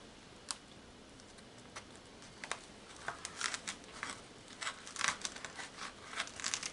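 Knife cutting through Shadowfoam tool-organiser foam in a workshop, a sparse run of small crisp snicks and crinkly tearing sounds that grow busier toward the end, close and quiet with no talk.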